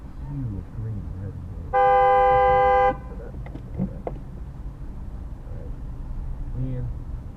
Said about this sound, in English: what are you honking for, mate? It's a traffic jam.